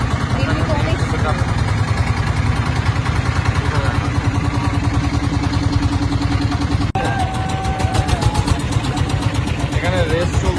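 Two motorboats race on the river near Bholaganj Sada Pathor in Sylhet, their engines a steady droning buzz heard throughout, with people talking over the noise.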